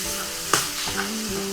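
Bean paste and fish seasoning frying in a pan, a close steady sizzle with a couple of brief stirring scrapes, no talk.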